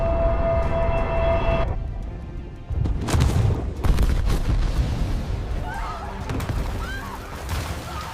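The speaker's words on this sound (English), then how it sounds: "The explosion sank the Lusitania in just 18 minutes" A torpedo from the German U-boat U-20 strikes the ocean liner Lusitania: deep booming blasts and crackling bursts erupt after a brief hush, rolling on with rumbling debris and scattered high whines.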